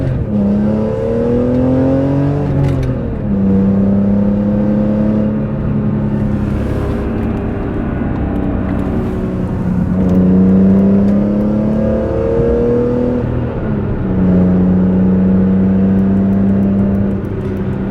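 A BMW E46 M3 with the SMG automated manual transmission revs up through the gears, engine pitch climbing then dropping sharply at each shift, several shifts in a row, loud and close with no talking.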